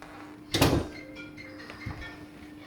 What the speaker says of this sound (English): Rosie, would you just shut my door?